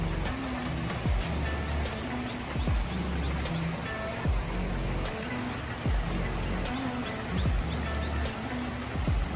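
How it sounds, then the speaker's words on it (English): Steady rain falls outdoors, a dense continuous patter with scattered heavier drops hitting surfaces nearby, heard alone without talk. "We'll wait on the rain to stop, get this cook going."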